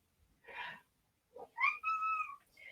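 A domestic cat meows at home, giving a short close vocalization followed by a longer, drawn-out meow and a brief trailing call, heard alone without talk.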